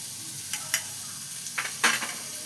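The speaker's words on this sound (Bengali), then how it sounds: "এইবার আলুটাতে আমি হলুদ আর নুন দিয়ে দেবো, দিয়ে ভেজে তুলে রাখবো।" Potato pieces fry in oil in a pan with turmeric and salt added; a faint, even sizzle is broken by a few sharp clinks and scrapes of stirring, with no voices.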